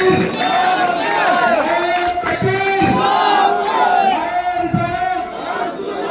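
A large crowd at an outdoor public meeting chants a loud, unified response to a takbir call, sustained voices rising and falling in repeated waves, close and dense.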